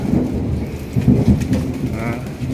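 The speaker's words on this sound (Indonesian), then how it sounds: "Oke, ada kilat ya." Thunder rumbles low and heavy through a rainstorm, with rain steadily pattering on surfaces; the rolling noise is loud and continuous throughout.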